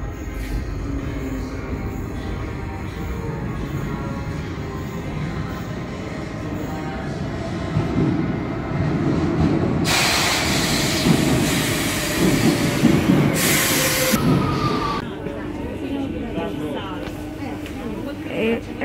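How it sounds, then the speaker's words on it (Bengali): A metro train arrives at an underground station, its rumble building to a loud roar with screeching wheels and a rush of air before easing off, while people's voices carry beneath it. "মেট্রোতে উঠবো, মেট্রো আসতেছে।"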